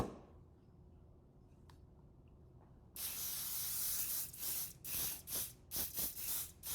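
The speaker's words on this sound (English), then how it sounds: "and that is to spray it with hairspray." Hairspray sprayed onto a piece of artwork: after a quiet stretch, a sudden loud hissing spray starts and continues in several short, pulsing bursts close by.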